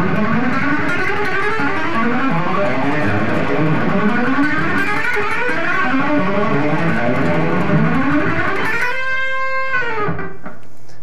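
Electric guitar exercise played with strict alternate picking, a steady stream of fast, even notes running up and down at close range, ending on a ringing held chord that fades out.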